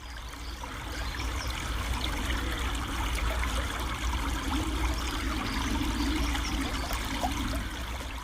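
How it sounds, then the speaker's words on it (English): Steady bubbling and trickling of a countryside stream near Foston, Leicestershire, continuous and fairly close, with a low rushing undertone and no voices. "the sound which evokes the countryside for her, a bubbling stream"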